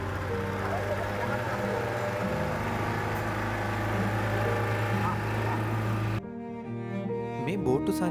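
A boat engine on a river trip along Kala Oya hums in a steady, tonal drone with a knocking undertone, then drops away abruptly, leaving scattered clatter.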